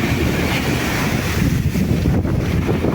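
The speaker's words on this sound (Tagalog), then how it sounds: "Grabe, laki ng alon." Big sea waves wash around a small boat on open water, with a constant rushing roar of surf and heavy wind buffeting the microphone, loud and close with no voices.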